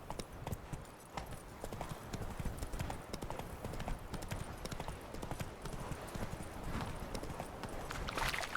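Horse hooves clip-clop steadily in the video game The Witcher 3: Wild Hunt, a quick, even rhythm of muffled thuds under a constant ambient bed, fairly faint and mid-distance.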